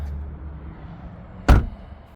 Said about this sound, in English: Let's shut this door and open the driver door next.